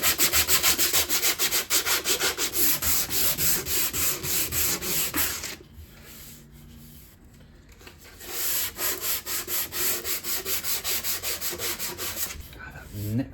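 A guitar neck being sanded by hand with 120 grit sandpaper, loud rhythmic back-and-forth rubbing strokes, a brief quieter pause midway, then steady strokes resume.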